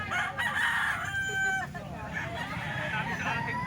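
Young roosters (ball stags) crowing, a rough strained cock-a-doodle-doo up close lasting over a second, with clucks and other birds around and a voice talking underneath.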